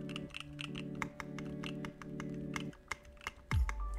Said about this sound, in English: we're going to put it on a typing test.